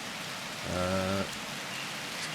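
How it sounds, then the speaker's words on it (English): Steady rain falls in the video game 35MM as a constant close hiss, with a brief tonal hum rising over it midway. "maybe we could find shelter and not stand around in the rain like a fucking lunatic"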